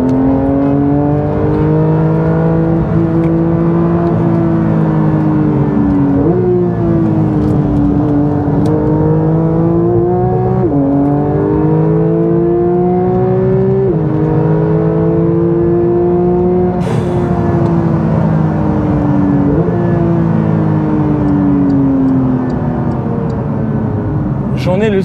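A 2023 Porsche 911 Sport Classic with a naturally aspirated 510 hp flat-six accelerates hard. Its loud, sustained engine note climbs repeatedly, with sharp drops at each upshift across several gear changes.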